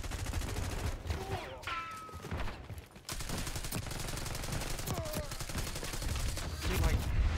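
Jackal submachine gun fire in Call of Duty Black Ops 6 multiplayer: sustained rapid automatic fire and game effects, fairly dense and continuous, briefly broken by a short lull, with occasional speech mixed in.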